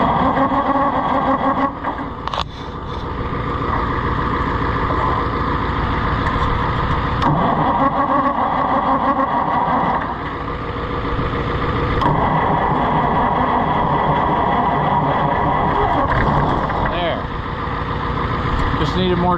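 An Oliver 880 tractor that has sat unused for a while runs loudly and steadily, its engine churning without a break through the whole stretch, with voices talking over it now and then.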